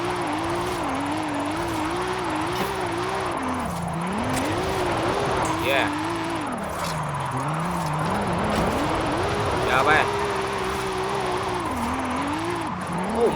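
A battered wreck of a car in Forza Horizon 5 accelerating after a handbrake drift, engine note climbing and dropping through repeated revs and gear shifts, loud and continuous with someone talking over it.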